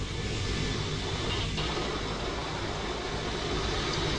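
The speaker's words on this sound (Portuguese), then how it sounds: "Belo avião." Airplane engine in Roblox, a steady loud broadband roar holding evenly for several seconds with no pauses or voices.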